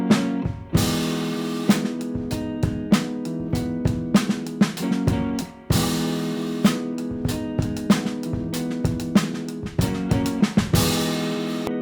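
A drum kit recorded with a single microphone plays a steady groove inside a full music mix, with punchy regular hits over sustained instruments at a loud, even level.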